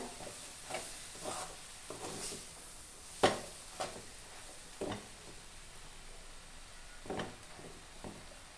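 Panaganti leaves and toor dal frying in a pan are stirred, giving soft scraping strokes at an irregular rhythm over a quiet sizzle, with one sharper clack of the spoon partway through.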